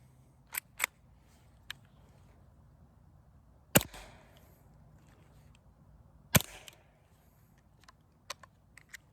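A Hatsan Sortie .25 caliber air rifle fires pellets in two sharp, loud cracks a few seconds apart, with a short decay after each, between faint clicks and handling sounds.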